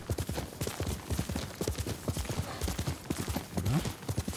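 Horse hooves clip-clop at a steady trot in Ghost of Tsushima Director's Cut, a dense rhythmic run of close, loud hoofbeats over a constant ambient game background.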